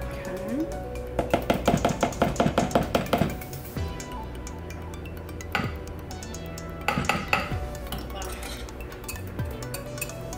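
Chocolate pound cake batter, low carb and keto friendly, being mixed by hand in a bowl, rapid clinking bursts of a utensil striking the bowl with pauses and a few louder knocks, fairly close.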